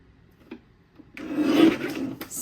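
A paper trimmer slices through a card kit piece in one steady, raspy cut lasting about a second, close and fairly loud after a couple of faint taps.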